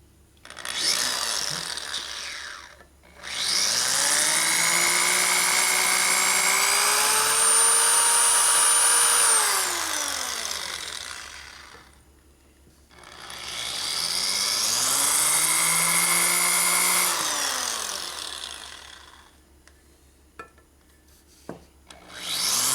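Drill biting into a part of a 1967 74ci Harley shovelhead motor, near a set screw, with a dull bit: two long, loud whining runs that rise and fall in pitch, separated by a short pause and trailing off into quiet.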